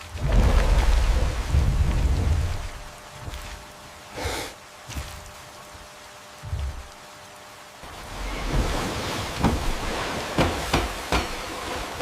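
Thunderstorm in the Amazon jungle, with heavy rain and low rumbling thunder loud at the start, sharp cracks and booms scattered through the middle, then steady downpour swelling again toward the end.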